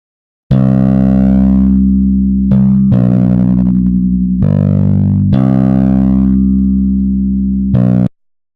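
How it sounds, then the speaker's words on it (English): A tonal synthesized phrase processed with an echo effect set to a 2-second delay and strong decay, sounding loud and sustained, with repeating held notes that ring out and stop abruptly. "I'm going to take just this first part, Effect, Echo. I like that. I like a 2-second delay with a decay factor of 2."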